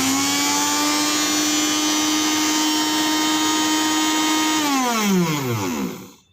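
A new Kajafa mixer grinder switched on empty, giving a loud steady high-pitched motor whine for several seconds before the pitch drops as it spins down to silence.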